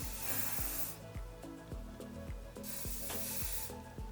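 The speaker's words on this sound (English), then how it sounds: "just put a little bit of hairspray in to kind of hold" Hairspray hisses onto back-combed hair in short repeated bursts from an aerosol can, close and steady, with a brief pause before another spray, no talking.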